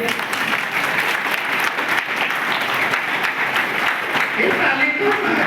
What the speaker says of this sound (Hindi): बजाओ ताली मेरे लिए।